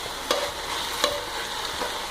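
Soft steady sizzling of beef frying in a pan for biryani, with a few light scrapes of stirring scattered through the short stretch.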